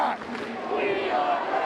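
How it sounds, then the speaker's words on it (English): A home crowd at a high school boys' basketball regional semifinal roars and chants together, a loud sustained wall of massed voices filling the gym throughout. "The whole crowd's going."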